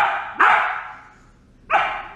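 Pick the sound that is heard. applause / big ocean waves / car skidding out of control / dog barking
dog barking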